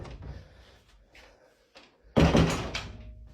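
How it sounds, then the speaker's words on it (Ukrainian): A wooden door by a wardrobe in a village house swings shut with a solid thud after a stretch of quiet shuffling and faint movement, followed by a low lingering resonance. "Дерев'яні двері."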